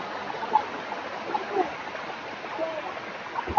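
Water from a large rural waterfall in Mandangad, Maharashtra, rushes in a steady, soft wash, heard at moderate distance with a few faint splashes.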